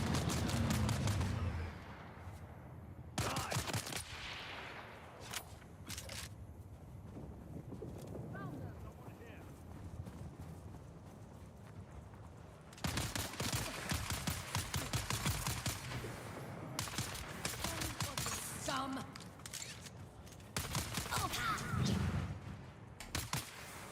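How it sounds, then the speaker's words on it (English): Gunfire in the Dune video game, bursts of rapid shots arriving in clusters amid wind and ambient game noise, with people talking over parts of it. "Are they shooting at us?"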